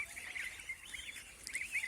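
Young geese on a farm calling as they rush after grass, a quiet cluster of short honking peeps and chirps with no talk.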